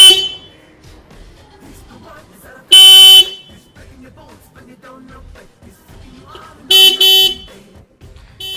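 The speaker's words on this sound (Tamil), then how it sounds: "இங்கே ரொம்ப வேகமாக ஹாரன் சவுண்ட் கேட்டுட்டு இருக்க" A vehicle horn sound effect honks loudly twice, each a short bright double toot, standing out against a faint background of quiet speech.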